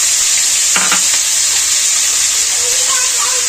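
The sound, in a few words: chopped onions frying in hot oil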